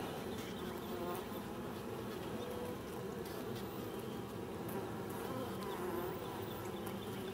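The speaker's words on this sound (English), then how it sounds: "All little bees around her." Dense, continuous buzzing of many honey bees close by on a hive frame around their queen, steady and loud with no talking.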